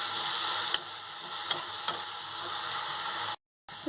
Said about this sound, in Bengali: এটা আমি এবার কিছুক্ষণ ভালো করে কষে নেব।